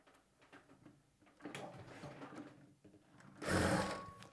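A sewing machine stitches a sleeve seam straight along a half-inch fabric margin, running in short close bursts with quiet pauses between and a longer, louder run near the end.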